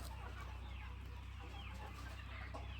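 Country chickens at a large wholesale poultry farm in Maharashtra give faint, scattered clucks over a low, steady electrical hum.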